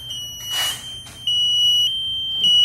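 A capacitance liquid sensor's alarm sounds in short, steady high-pitched beeps that repeat, loud and close, with brief handling noise early on and no talking.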